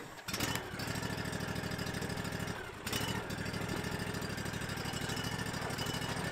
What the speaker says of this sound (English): Drive your lawnmower on home.